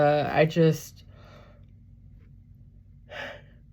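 A person yawns aloud: a drawn-out voiced groan that slides in pitch, then a quiet exhaled breath, with a short breathy sound after a pause.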